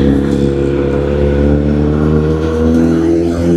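A car engine runs steadily at close range as the vehicle drives toward a petrol pump, with a continuous low hum and mild revving throughout.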